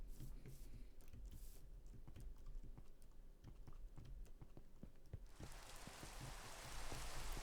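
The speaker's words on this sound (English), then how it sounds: "Yeah, it's raining." Steady hiss of rain in Minecraft, faint under close, rapid clicks of computer keyboard typing, with the rain swelling louder and fuller in the last couple of seconds.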